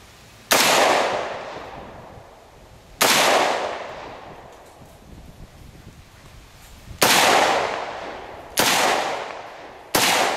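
A Rock River Arms LAR-47 rifle fires five loud single shots outdoors at uneven intervals, each a sharp crack followed by a long echoing decay.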